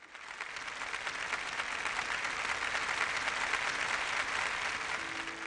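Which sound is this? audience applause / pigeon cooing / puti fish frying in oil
audience applause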